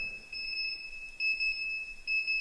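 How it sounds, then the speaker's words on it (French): A French-speaker's alarm clock beeps in steady two-tone pulses, fairly quiet and alone, repeating in short bursts with brief gaps. "C'est mon réveil"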